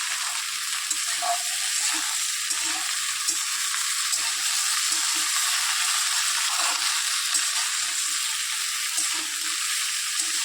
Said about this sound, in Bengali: সব কিছু একসাথে ভালো করে ভেজে নেব